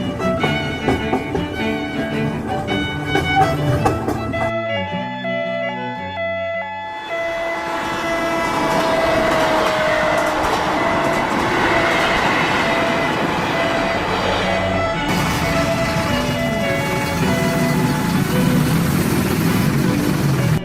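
Riding a KRL commuter train: a loud, continuous rumble of the railcar with clattering wheels and a brief quieter lull, then steady running noise, with no talking.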